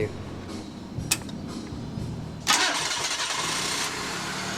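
Nissan GA16 car engine starting after a head gasket replacement: a couple of faint clicks, then the starter cranks and the engine catches with a loud burst before settling into a steady idle.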